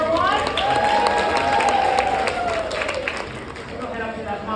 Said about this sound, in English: Round of applause one more time for heat number 1.